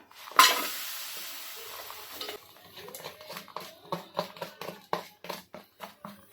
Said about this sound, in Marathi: तूप आपलं छान गरम झालेला आहे आता आपण गूळ टाकून घेऊया